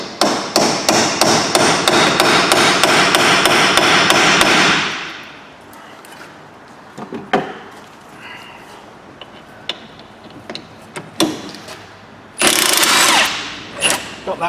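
Mini Cooper S front wheel bearing being hammered on, a rapid run of loud metallic blows for several seconds, then sparse knocks and handling clatter before another short burst of strikes; no talk.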